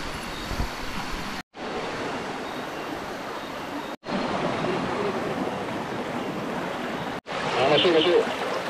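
A river crossed on foot on a hike up Bukit Kutu, with continuous rushing water and wind noise close to the microphone, broken by a few brief silent cuts.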